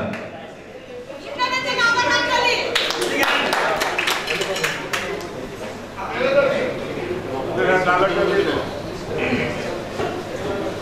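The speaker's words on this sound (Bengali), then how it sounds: "ইমরান খানের জন্য হাততালি হবে।" Audience applause for an award winner at an inaugural and cultural ceremony: a burst of clapping with quick sharp claps, mixed with crowd chatter and voices throughout.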